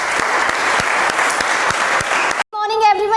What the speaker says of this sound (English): give a huge round of applause to Kanika